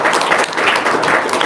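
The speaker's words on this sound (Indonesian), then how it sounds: "Tepuk tangan dong." Audience applause at an Islamic religious gathering, steady clapping from many hands at moderate loudness throughout, with no speech over it.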